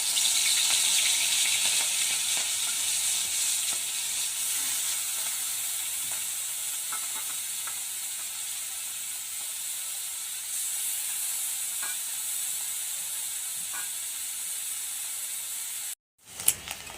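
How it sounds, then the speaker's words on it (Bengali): Shrimp fry in hot oil with a steady, loud hiss and crackle that holds for most of the stretch, then cuts off briefly before a clatter at the end. "এটাকে আমি 3-4 মিনিট ধরে মাছটাকে আমি ভেজে নিয়েছি"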